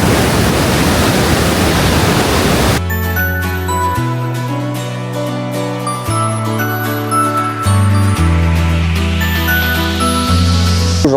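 A powerful river rushing through a canyon in Gaspésie, a loud broadband roar that cuts off after a few seconds, giving way to music.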